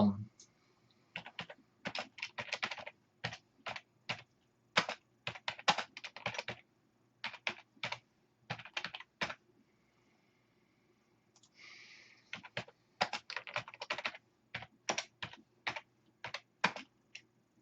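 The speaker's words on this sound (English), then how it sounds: "You're asking me to think while I'm typing." Close, rapid typing on a computer keyboard in quick bursts of key clicks, with a pause in the middle before the clatter resumes; a quiet background hum sits underneath and no one speaks.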